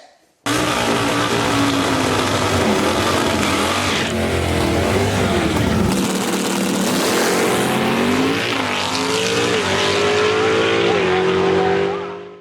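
A loud, high-revving alcohol-injected 635-cubic-inch all-aluminum big-block engine in an old Camaro roars continuously, its pitch climbing and dropping through repeated throttle blips, with a harsh, buzzing exhaust note close by.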